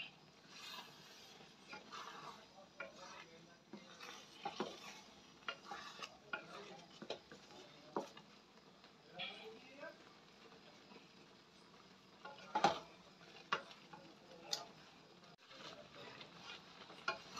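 Pancit bato noodles are stirred and tossed in a pan, with irregular scraping and clinking strokes of a utensil over a faint, steady sizzle, close and moderately quiet with no talking.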